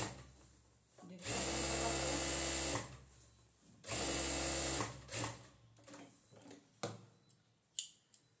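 Sewing machine running two bursts of stitching, each about 1.5 s, as a second line goes onto the elastic waistband of palazzo pyjamas, then quieter handling and fabric clicks close by.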